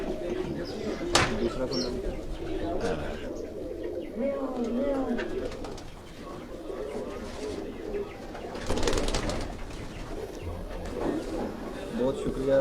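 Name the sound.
pigeons cooing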